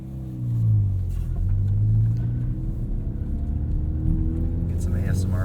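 A 2017 Ford Fiesta ST autocross modified car on very sticky tires and stiff suspension rolls over rocks, its engine a steady low rumble with a brief rise in revs, loose crunching from the surface underneath, and no voices.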